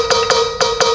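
Four sharp, hollow wood-block strikes played from the rim of a Roland TD-17KV electronic drum kit, evenly paired in a quick rhythm, clear and close with no talking.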